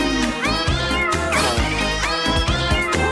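A cartoon cat from Oggy and the Cockroaches lets out a rapid run of loud, close, expressive meows and yowls, several overlapping cries in about three seconds with no other sound.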